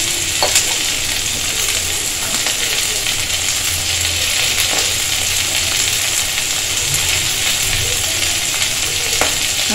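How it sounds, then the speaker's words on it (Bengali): Spices with turmeric fry in a pan in a steady, loud sizzle with a hissing broadband texture, occasional stirring clicks, and no talk. "ভালো করে মশলাটাকে ভেজে নেব।"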